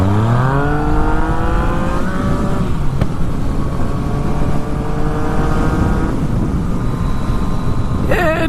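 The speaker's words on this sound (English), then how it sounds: "Just a little power wheelie." A motorcycle engine revs hard and climbs in pitch as the rider pulls a power wheelie, then holds a loud, steady drone close by, with a brief sharp knock near the end.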